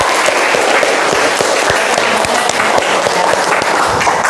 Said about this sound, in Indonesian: itu luar biasa, tepuk tangan dong